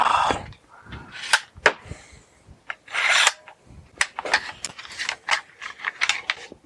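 Clamps being undone on a homemade filament dryer, sharp clicks, ratcheting snaps and scraping plastic and metal rattles in irregular bursts, close by with no talk.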